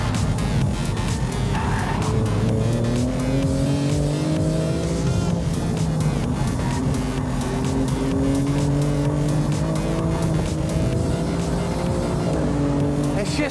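A Lamborghini Urus Performante SUV is pushed through a fast timed lap, its engine droning loud and continuous with rising and falling pitch as gears change, tires squealing through corners.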